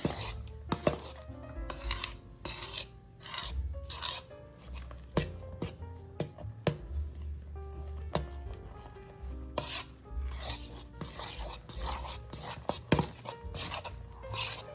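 A spoon stirs a thick chocolate peanut butter mixture in a bowl, giving repeated scraping rubs and occasional clinks against the bowl in an irregular rhythm, close and moderately quiet.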